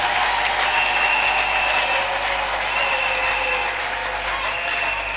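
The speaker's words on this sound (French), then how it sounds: "Acclamez pour Jésus-Christ." A church congregation at a Friday worship service applauds steadily and loudly, with sustained clapping and a faint tonal hum running through it.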